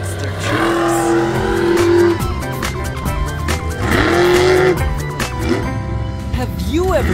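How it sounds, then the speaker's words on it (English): Monster truck engines rev and roar at a Granby event in September 2024, with rising and falling whines and tire squeals. A voice talks over the loud engine noise throughout. "This time, we'll see some real monster trucks."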